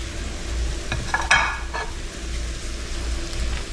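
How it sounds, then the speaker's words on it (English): Fried rice ingredients with an overloaded omelet hiss steadily in a hot pan while a utensil scrapes and clacks through them a few times, the sizzle constant underneath. "let's start getting this stirred up a little bit, because once it starts getting hot, it's gonna start going"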